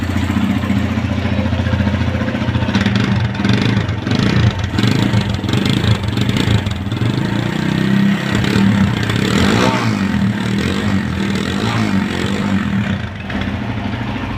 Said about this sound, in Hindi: बाइक का इंजन का साउंड भी चेक करेंगे।